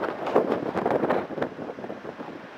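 Wind buffeting a microphone on a street in The Hague on a chilly day, a rough low rumble in uneven gusts, moderately loud, with no voices.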